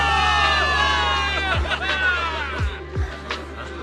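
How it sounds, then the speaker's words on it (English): A crowd of soldiers cheers and murmurs in the video game Zenless Zone Zero, in a noisy, echoing space, with scattered shouts and a few thumps beneath the babble. "Give it up for yourselves, soldiers! Cheer for victory!"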